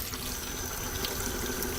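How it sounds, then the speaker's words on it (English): Humidifier parts being put into water to soak while cleaning off limescale, a steady close splashing, running-water sound like a filling sink, with no talking. "So, we'll be putting this in the water"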